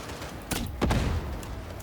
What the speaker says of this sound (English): Looks like the explosion got him too.